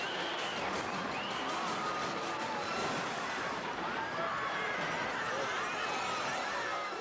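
A loud, dense crowd roar with shouting fills the whole stretch as 3,000-pound Clydesdale horses charge down a street into the crowd, with horse whinnies and commotion mixed in.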